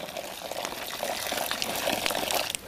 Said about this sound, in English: if you pour the water from a height